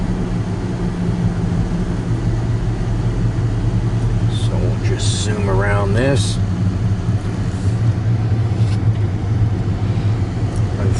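A 2023 Volvo XC90 B6 Ultimate rolls on cruise control at about 35 mph. Steady low road and engine rumble fills the cabin, with a person talking over it partway through.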